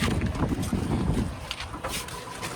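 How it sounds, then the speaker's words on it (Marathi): Strong wind buffeting the microphone beside a lake near a parked car by the Saputara highway, a loud rumbling roar that gusts heavily and then eases slightly. "वारा पण जोरात सुटलाय"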